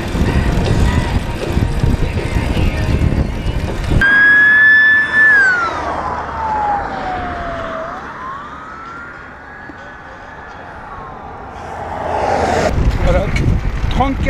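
A Turkish truck on a road roars past loudly, then a long wavering, gliding whine rises and falls over fainter traffic before another heavy rush of passing vehicle noise.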